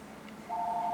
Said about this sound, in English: making a video, that phone has to ring.